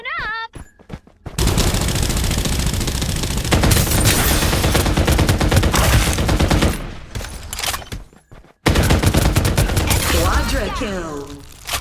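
Gunfire exchange in the game Farlight 84 during a city battle, dense rapid machine-gun bursts with loud cracks, continuous for several seconds, broken by brief pauses and short voice lines.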